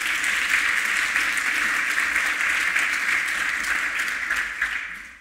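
An audience at a women's tech conference networking panel claps for three panelists, a full, sustained round of applause that holds steady and fades slightly at the very end.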